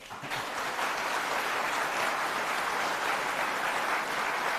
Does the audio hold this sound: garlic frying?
no